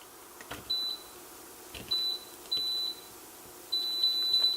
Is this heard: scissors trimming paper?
no